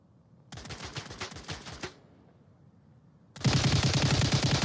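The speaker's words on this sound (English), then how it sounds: "Torres now hearing the gunshots and Torres staring" Rapid bursts of gunfire in a video game: a dense rattling volley of shots, a pause, then a louder sustained barrage close up, with no talk.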